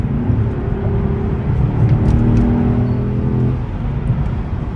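A 2014 Porsche Cayenne GTS engine runs with the sport exhaust on, a steady deep loud drone that swells slightly mid-way, then eases, heard close from inside the car.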